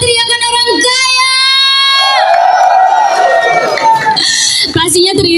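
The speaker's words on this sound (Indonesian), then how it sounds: "Mana teriakan orang kaya?" An audience at a presentation event shouts and cheers loudly when the host prompts them, a dense crowd roar with sustained tonal voices running through it.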